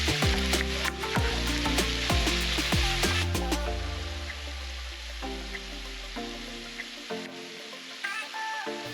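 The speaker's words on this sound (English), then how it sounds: "put oil in a pan, let it heat up for a couple of minutes, then add the pork and let it brown" Pork browning in hot oil in a pan for pinakbet gives a steady crackling sizzle under prominent background music, fairly loud throughout.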